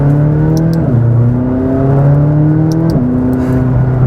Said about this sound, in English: And I admit, there's nothing like a good V8 sound